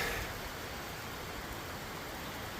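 Broad steady hiss of rain coming down, even and unbroken, moderately loud with no talking.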